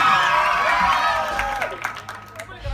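An audience at a Malayalam Mappilappattu stage show claps and cheers loudly with a few whoops. The dense applause starts strong and gradually thins out over about three seconds.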